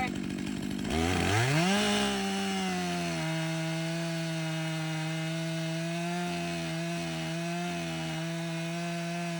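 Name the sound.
chainsaw cutting wood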